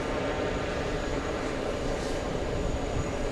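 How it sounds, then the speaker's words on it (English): Virgin Airbus A350-1000 on final approach after flying in from Heathrow, a steady, dense engine roar at moderate distance, constant and unbroken for the few seconds. "Big A350 1000 flying in from Heathrow."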